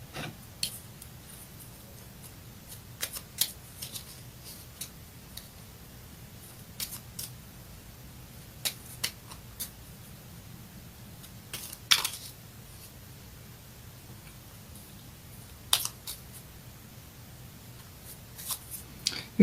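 Destiny cards shuffled by hand for a tarot-style reading, quiet sharp riffles and card snaps spaced irregularly over a soft low background hum, with no talking.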